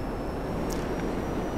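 A Buckingham Pyro fighter jet in GTA 5 gives a constant, loud engine roar, a dense broadband rush that holds steady with no talk.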